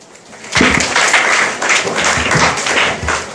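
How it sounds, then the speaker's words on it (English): An audience claps for a boy student at a Destination IAS career event in Kottayam: dense, loud, steady applause that starts abruptly and holds to the end, with no talk over it. "Give him a big clap."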